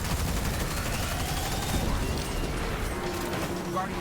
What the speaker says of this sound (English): That was a cannon shot.